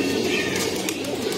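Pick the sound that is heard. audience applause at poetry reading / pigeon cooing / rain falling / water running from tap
pigeon cooing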